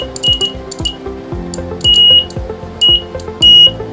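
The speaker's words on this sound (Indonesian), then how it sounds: "dapat dilihat jika dekat maka buzzer berbunyi" A buzzer in a ship electrical system demonstration sounds in short steady electronic beeps of varying length, with clinking metallic taps and a busy background of other tones around it.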